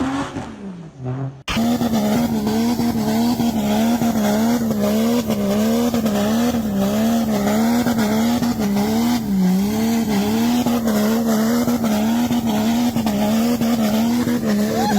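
A car drifting on a track at night, with a loud sustained engine roar whose pitch wavers up and down alongside continuous tire squeal, rising abruptly after a quieter first second and a half.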